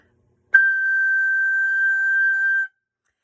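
A single high G on a soprano recorder sounds clear and steady for about two seconds, then stops, with silence before and after.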